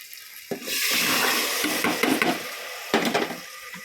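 Water is poured over soaked rice and dal in a pot for khichdi, a close, steady splashing gush that swells, dips and ends with a few knocks.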